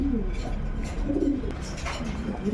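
Kashmiri racer pigeons at a bird market stall, giving low throaty cooing calls that repeat over a dense background murmur and the hum of the surroundings.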